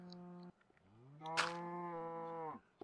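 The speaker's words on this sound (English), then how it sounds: "Shut up, cow." A Minecraft cow lets out two mooing calls: a short low moo, a brief pause, then a longer, louder drawn-out moo that rises and holds before cutting off, heard alone and close.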